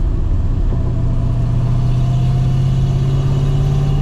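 A 1991 Ford Mustang Foxbody V8 with an F303 cam, Roush 200 heads and a five-speed gearbox drones loud and steady while driving, a continuous low engine rumble with no talk.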